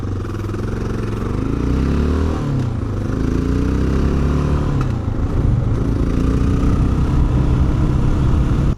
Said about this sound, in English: It certainly has that classic thumper sound.